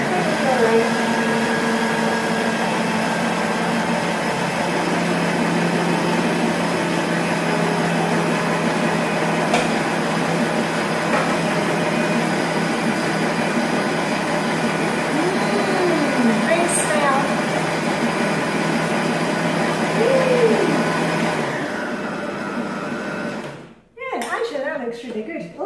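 A blender runs with its lid on, a loud steady whirring drone while mixing Danish mazarinkage cake batter, continuing for over twenty seconds before cutting off abruptly.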